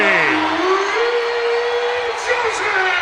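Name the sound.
basketball crowd cheering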